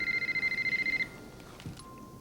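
A cell phone rings from inside a gift basket at a San Francisco gift basket symposium, a rapid pulsing electronic ringtone that warbles for about a second and then cuts off, leaving only faint room noise.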